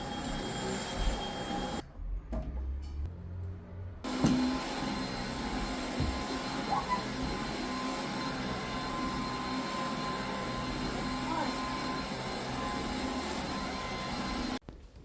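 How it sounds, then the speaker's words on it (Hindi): A vacuum cleaner runs steadily while a room is cleaned, a loud continuous whine and roar that drops out briefly near the start and then holds without a break to the end. "अब मैं क्लीनिंग के लास्ट स्टेप पे हूँ, जो कि है वैक्यूम।"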